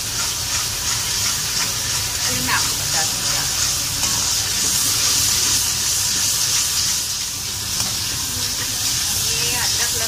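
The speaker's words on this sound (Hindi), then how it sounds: "डाल दिया अदरक लहसुन का पेस्ट, तो अच्छे से भुनेंगे।" Ginger garlic paste frying in a pan for a mutton kofta curry, a loud continuous sizzle and steamy hiss with stirring, while someone speaks briefly over it.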